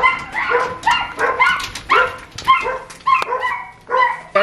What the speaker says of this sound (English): Look at Amber dogs, y'all.